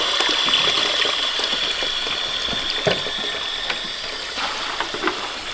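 Water from a hose or tap pours steadily into a barn animals' water container, a continuous close gushing and splashing with a few small knocks, no talking.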